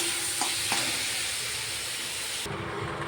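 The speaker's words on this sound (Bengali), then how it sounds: "ভালো করে নাড়াচাড়া করে নেব।" Fried bitter gourd and pumpkin are stirred in a hot pan, a close, steady sizzle with scraping stirring strokes that briefly lighten near the end.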